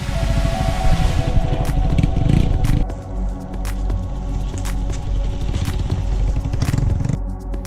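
A motorbike with low ground clearance and road tyres rides a rough dirt track in Vietnam, its engine droning loud and close beneath constant rattling, clattering and scraping from the bumpy surface.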